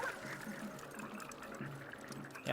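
Water in the Splatoon Raiders video game splashes and trickles in a faint, continuous stream, quiet and low in level throughout.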